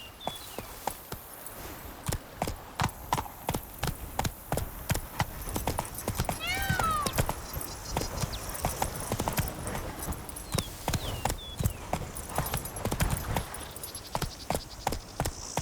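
Roach the horse gallops in The Witcher 3 with steady, repeated hoofbeats throughout, and a whinny cuts in partway through.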